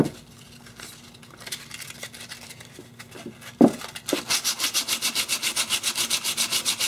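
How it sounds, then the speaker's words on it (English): A knife handle is hand-sanded to strip cured epoxy glue, first with scattered scrapes and a knock, then a steady run of rhythmic back-and-forth rasping strokes, close and clear. "we're going to sand our handle with it. Get some of this glue removed."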